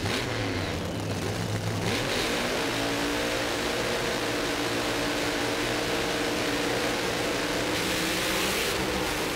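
A drag racing car engine roaring down the track, a sustained loud mechanical drone with rising tone early on, continuous and close with no voices over it.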